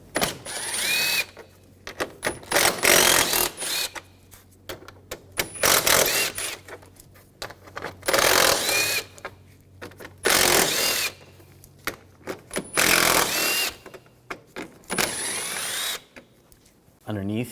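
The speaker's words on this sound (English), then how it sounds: "We're going to remove these bolts." A power tool with a 10mm socket removes bolts on a 2013–2019 Ford Escape front bumper. Close, loud bursts of whirring come in irregular spurts with short pauses between them, and a voice talks in the gaps.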